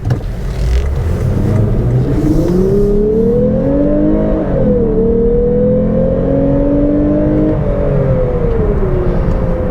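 A 2022 Lexus IS350 F Sport in its sportiest drive setting accelerates hard, its engine tone climbing steadily, dipping briefly at a shift, then rising again as a loud, continuous, close-up drone.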